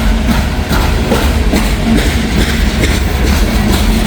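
A train rumbles loudly and steadily with a dense low roar and faint rhythmic clatter, as if close by, with no voices.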